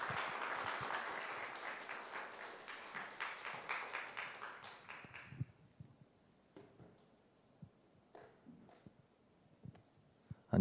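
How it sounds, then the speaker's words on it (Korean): Audience applause welcoming a guest pastor at a church ministry academy in Suncheon, a steady clatter of clapping for about five seconds that thins out, followed by scattered faint taps and quiet room noise. "박수로 환영을 하고 시작하겠습니다."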